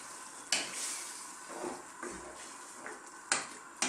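Bottle gourd and shrimp are stirred in a pan, with sharp scrapes and clatters of the utensil over a faint, steady sizzle, each stroke coming at an uneven pace.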